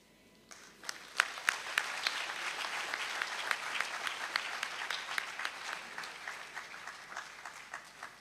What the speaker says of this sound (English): Shall we give her another applause?